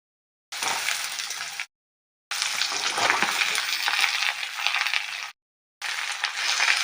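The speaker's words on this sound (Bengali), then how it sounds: "আমি আলুটা হালকা ভাজা করে নেব।" Loud, crackling sizzle of potatoes and ridge gourd frying in hot oil in a pan, heard in three bursts separated by brief silences, close and bright with occasional stirring scrapes.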